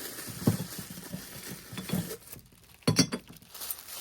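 Glass pieces of a double caster cruet set being handled, giving a few light clinks and taps scattered across a quiet room.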